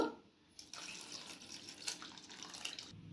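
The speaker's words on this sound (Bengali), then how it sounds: "এরপর 2 থেকে 3 বার আবার আমি ভালো করে জল দিয়ে ধুয়ে পরিষ্কার করে নেব।" Ingredients being rinsed under running tap water in a home kitchen, a steady splashing stream that starts after a brief pause and runs on close and fairly loud before cutting off.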